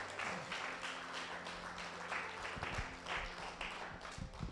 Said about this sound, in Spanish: ¿Usted le puede dar un fuerte aplauso a Dios?